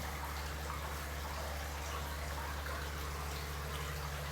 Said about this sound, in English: Filter's working because we can see that there's water coming out of the outlets.